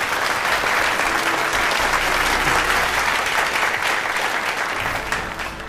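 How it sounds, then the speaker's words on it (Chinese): Sustained, loud applause from an audience at an award ceremony, dense steady clapping filling the room and tapering slightly near the end, with a faint hint of voices underneath. "掌声欢迎。"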